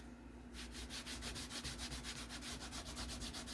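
A piece of cotton t-shirt rubs oil onto a leather gun belt, an even rhythmic swishing of back-and-forth strokes, close and fairly soft, over a faint steady hum.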